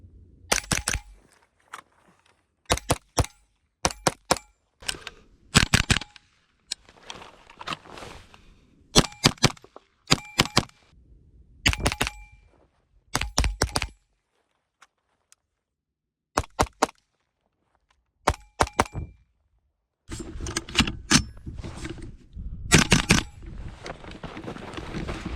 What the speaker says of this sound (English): Anyways, enough talking, let's get shooting.